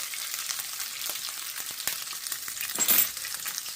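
Brisket and green chili tacos fry in a pan with a steady, close crackling sizzle, broken by a few sharp spits and a brief louder burst of popping near the end, with no talking.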